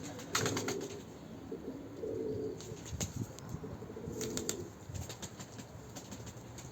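Pigeons in a breeding coop, several low coos repeating at close range with occasional wing flaps and soft chirps over a constant background hiss.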